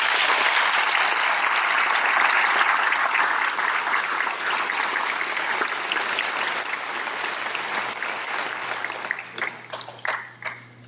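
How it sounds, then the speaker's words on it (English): A large audience at a RASP ranger course graduation ceremony applauds the cadre in a loud, sustained wash of clapping that holds steady for about nine seconds before breaking up into scattered individual claps and fading. "I ask you that you join me in a round of applause for the Cadres."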